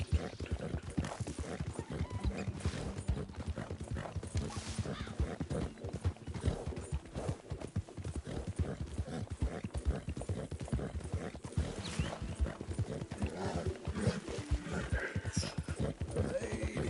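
A horse galloping in Red Dead Redemption 2, steady rapid clip-clop hoofbeats throughout with occasional neighing, while a person talks over it.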